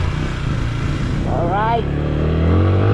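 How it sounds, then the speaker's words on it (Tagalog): A motorcycle engine drones steadily throughout while riding on the road, loud and close with constant low rumble, and someone speaks briefly over it. "Batak na batak sa akin itong motor na to."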